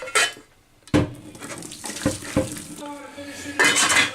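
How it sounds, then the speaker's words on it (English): Boiled rice is drained in a kitchen sink, with water splashing and pouring in bursts amid clanks of a pot and metal utensils, close and fairly loud, with no speech. "drain your rice"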